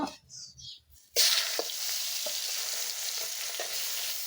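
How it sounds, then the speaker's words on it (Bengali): Two pieces of pona fish drop into hot oil in a kadai, setting off a sudden loud burst of sizzling that settles into a steady, crackling fry. "একবারে আমি সবগুলো মাছ ভাজতে পারিনি"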